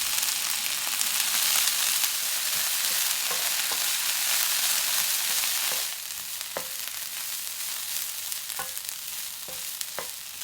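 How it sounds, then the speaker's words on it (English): Carrots, hijiki and fried tofu fry in oil over medium heat, giving a steady close sizzle for about six seconds, then quieter frying broken by several sharp clacks of stirring against the pan. "Fry the carrots with medium heat."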